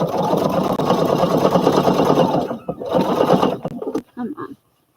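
A home sewing machine runs a double-strength top stitch, its fast mechanical whirr steady at first, then stopping and restarting in shorter bursts before falling silent, with a voice talking over it.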